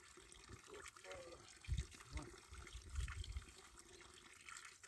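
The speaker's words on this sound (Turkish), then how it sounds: "Ben bir de elim düzgün şey yıkayayım ya." Hands are rinsed under a running tap outdoors at a rock-climbing area, a steady soft wash of water with a few brief splashes and people talking nearby.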